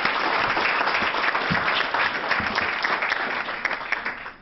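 Sustained applause from a reception crowd honouring elected officials at a chamber of commerce legislative event, dense steady clapping that holds for several seconds before starting to thin.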